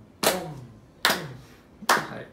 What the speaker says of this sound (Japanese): 手拍子とかしていただくと